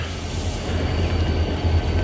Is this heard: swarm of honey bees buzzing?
no